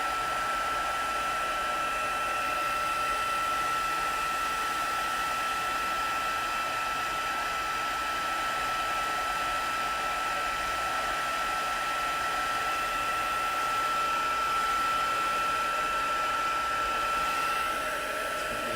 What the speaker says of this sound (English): It's still magical, this heat embossing, how it transforms every time.